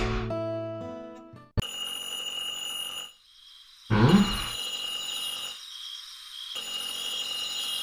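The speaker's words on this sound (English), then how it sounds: "Some days later, the phone rang." A telephone rings in the video game Tales from Toyotoki, a bright electronic ring in repeated bursts with short gaps over soft game background music, loud and close, with no talk.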